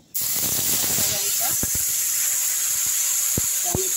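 Tomatoes dropped into hot white oil already tempered with cumin seeds and bay leaf start a loud, steady hiss and sizzle close up, with scattered sharp crackles and pops over several seconds.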